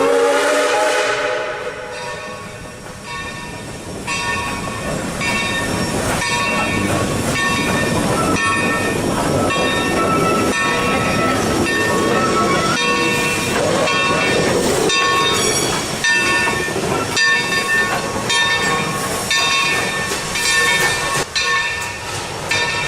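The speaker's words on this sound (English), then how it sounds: "30 disconnected from the rest of the train and made its way along the Y to be serviced at the Rusk Locomotive shop" Texas State Railroad 2-8-2 steam locomotive #30, uncoupled from its train, runs alone along the wye toward the Rusk shop. Loud, close, continuous rumbling and clanking of rods and wheels fill the scene, with a brief whistle-like tone near the start.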